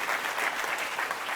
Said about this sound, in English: Can we actually give her a round of applause?